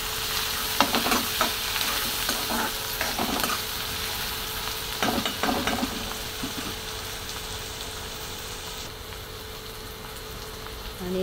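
Onions with a pinch of salt fry in hot oil for a sprouted moth bean and potato curry, a continuous close sizzle with clusters of scraping stirs early and midway, then a calmer hiss.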